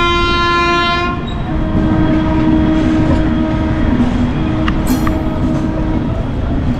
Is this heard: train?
yes